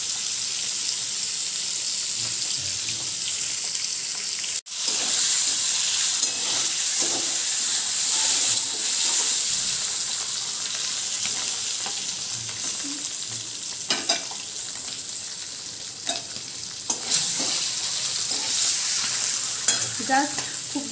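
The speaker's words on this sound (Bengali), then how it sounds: "ডিমগুলোকে কড়াইয়ে একটু সাদা তেলের মধ্যে হালকা শ্যালো ফ্রাই" Eggs shallow-fry in a little white oil in a wok, a continuous close sizzle and hiss broken by occasional scrapes and clinks as they are turned, with one sharp knock partway through.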